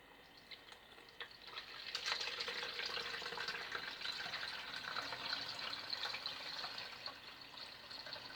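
A steady stream of liquid pours into a container for homemade elderflower champagne, a continuous watery hiss rising after a couple of seconds and holding evenly, with no talking.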